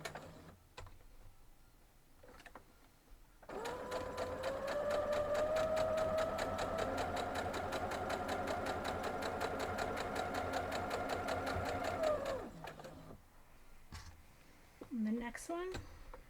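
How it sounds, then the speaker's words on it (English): A sewing machine stitches lines on quilt fabric for flying geese blocks, running in one steady, rapid burst of whirring and ticking for about nine seconds. Speech comes before and after, with handling noises around it. "So we're going to go sew the lines on these."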